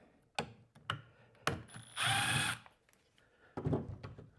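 Screws being backed out of fiberboard with a ratcheting driver, close mechanical clicks and short bursts, then one louder whirring grind lasting about half a second, followed by more scattered ratchet clicks.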